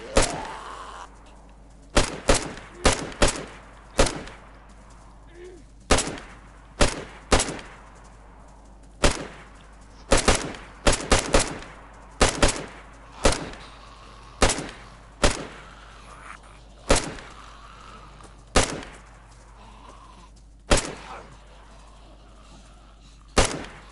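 Gunfire in the video game DayZ: sharp single gunshots crack out irregularly, some in quick clusters of two or three, then spaced several seconds apart, each loud and close with a short decaying tail.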